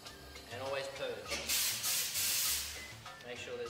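A barista purges an espresso machine's steam wand, releasing a loud, sustained hiss that swells for about two seconds in the middle, with a person talking before and after.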